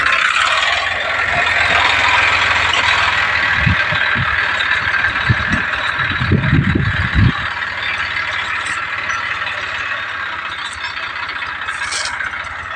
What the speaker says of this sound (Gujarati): જ્યાં આમ હાલે ટ્રેક્ટર 72